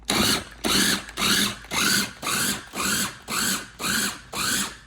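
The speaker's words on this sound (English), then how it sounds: "So we put them into a processor." A food processor chops large shrimp into chunks with nine short, even pulses of whirring motor and blade noise, each about half a second long and separated by brief pauses.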